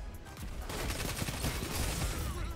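Rapid SMG fire in Destiny 2 Lightfall rattles in a dense, continuous burst lasting a couple of seconds, loud and close.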